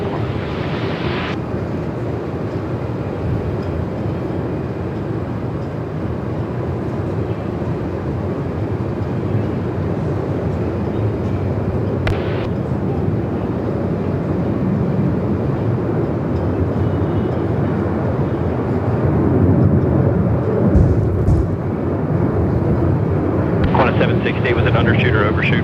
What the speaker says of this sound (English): Is this a go around? This is a go around.